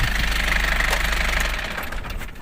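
A Kia Pregio van engine, run again after standing ten years and now burning and smoking, idles with a loud, steady knocking close by, then its rumble fades somewhat toward the end.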